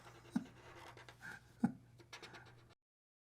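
Pen drawing eyes on paper, a few soft close scratchy strokes with two clearer taps, quiet and brief.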